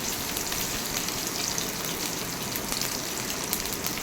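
Onions sizzling in hot oil with mustard seeds and curry leaves, a steady loud frying hiss with light crackle throughout, no talk.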